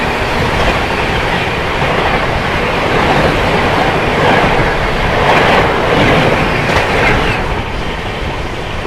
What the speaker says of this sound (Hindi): सामने से अपने से क्रॉस होने आ रही है हजरत निजामुद्दीन रायगढ़ गोंडवाना एक्सप्रेस।